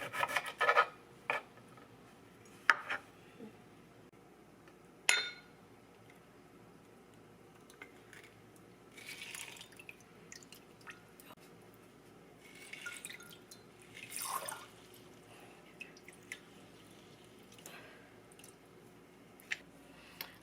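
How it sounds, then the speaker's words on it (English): Key limes are squeezed by hand for shrimp ceviche, giving quiet intermittent squishing rasps, juicy squeaks and drips scattered across a hushed kitchen, each burst brief and close. "we're going to juice our limes"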